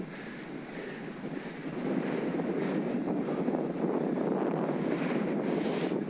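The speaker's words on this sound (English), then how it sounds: "this is windy" Steady, loud wind buffeting a microphone on a bicycle ride, a broad rumbling roar that swells after the first couple of seconds and stays constant, with no voices.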